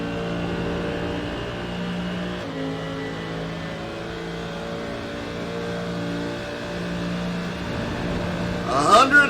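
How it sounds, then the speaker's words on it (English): A GT3 race car engine in a racing game drones and climbs steadily in pitch as it speeds up at the Nürburgring, with a rising whine of revving toward the end. "the car coming up to speed, you hear the wind going by the windows"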